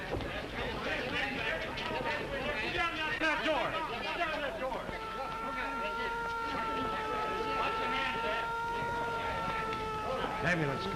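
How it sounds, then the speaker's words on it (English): An ambulance siren wails at a 1932-era scene, its steady tones emerging partway through, under overlapping voices and bustle. "Ambulance"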